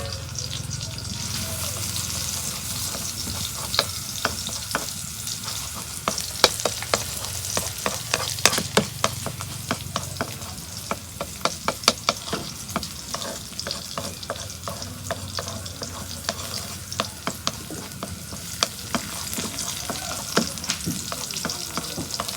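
Garlic sizzles in hot oil in a pan, a continuous close frying hiss broken by frequent sharp clicks and scrapes of a spatula stirring.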